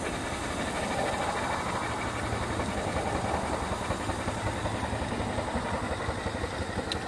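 A small Tiny Power steam engine, about 20 years old, runs steadily with an alternator mounted on it and fired from an off-grid boiler, giving a continuous dense chuffing and hissing mechanical rumble with fine rapid pulsing, loud and close, with no talk.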